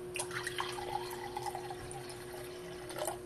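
Unfiltered raw ambrosia, a homemade fermented drink, is poured into a glass, giving a short gurgling, splashing trickle heard up close over a faint steady hum.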